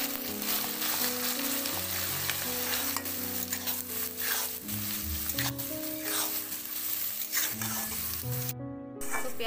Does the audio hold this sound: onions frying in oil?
yes